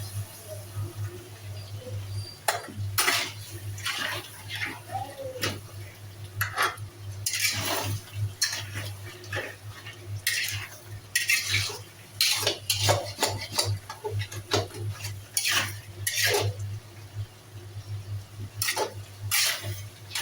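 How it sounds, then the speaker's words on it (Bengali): A large silver carp head cooking down with tomato and potato in a pot is stirred with a utensil, giving irregular metallic scrapes and clinks over a steady low hum, close and moderately loud with no talking. "ঢাকনাটা আমি এখন খুলে নেব, তারপর নাড়াচ্ছি"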